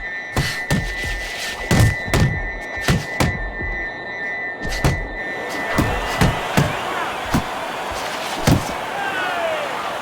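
Repeated heavy thuds and thumps of punches land in irregular bursts over a steady crowd murmur in the boxing video game Fight Night Champion.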